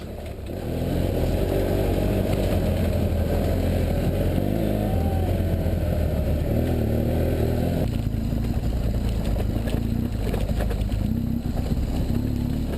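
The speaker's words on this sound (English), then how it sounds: "I find that thing's got really good bottom end, and it doesn't mind being lugged a bit" BMW F800GS motorcycle engine lugging at low RPM on an off-road trail, a steady loud rumbling drone held throughout with a slight change in tone partway, wind noise over it.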